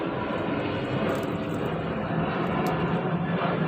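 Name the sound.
airplane flying overhead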